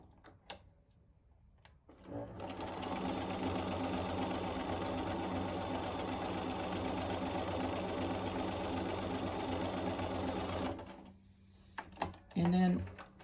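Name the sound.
sewing machine stitching fabric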